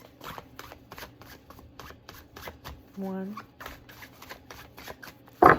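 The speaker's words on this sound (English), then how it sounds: "Last shuffle with this deck." A deck of tarot cards is shuffled in repeated quick riffling bursts, close and fairly soft, with a brief spoken word near the end.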